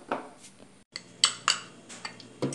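A small spoon clinks against dishes in a home kitchen during quick bread making, a few light metallic taps and scrapes, close and fairly quiet, with no talking.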